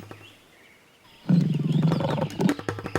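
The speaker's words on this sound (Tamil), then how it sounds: "அந்த காடே அதிர்ந்து போற மாதிரி கர்ஜனை செய்ய ஆரம்பிச்சது" A cartoon lion lets out a deep, loud roar that bursts in after a near-silent opening and rumbles on for almost two seconds, close and alone.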